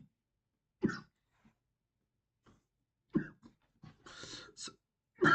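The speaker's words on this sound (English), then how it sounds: "sorry for coughing today, everyone" Several separate coughs and throat-clearing sounds from an asthmatic adult, close and fairly quiet, with silent gaps between them.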